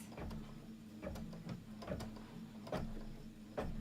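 A sewing machine stitches slowly with its pedal held down, giving a quiet, low hum broken by soft, regularly spaced mechanical ticks about once every second, with no voices.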